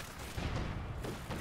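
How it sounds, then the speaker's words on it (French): A Stuka bomb explodes in a D-Day World War II strategy game tournament match, a dull, rumbling low boom that sustains through the short stretch with mid-level loudness and no voices. "Il y a eu une bombe de Stuka."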